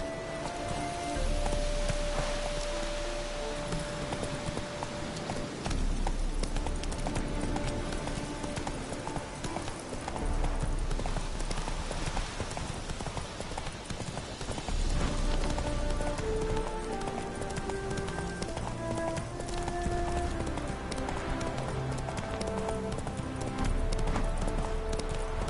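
Hooves of a galloping horse in The Witcher video game clip-clop in a fast, steady rhythm, loud and close, over a continuous rain-like hiss and faint game music.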